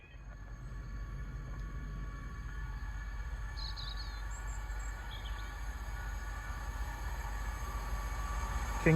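A train passes Attenborough station on a Leicester to Lincoln service, a steady, fairly distant low rumble with faint wheel and rail noise that holds throughout, with no voices.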